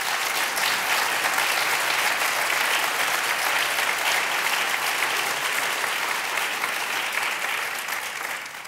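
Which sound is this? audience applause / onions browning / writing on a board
audience applause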